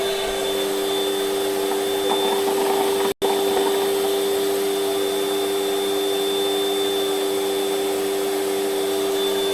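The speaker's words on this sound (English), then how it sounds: "Pretty loud vacuum." An old vacuum cleaner runs loud and close with a steady high whine and airy roar, briefly cutting out for an instant before resuming, with no talk.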